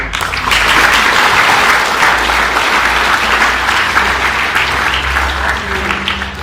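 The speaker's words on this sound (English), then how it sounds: "He deserves a standing ovation and a round of" An audience at a school science lesson for a Grade 8 class bursts into applause. The clapping is dense and sustained, filling the room loudly for several seconds.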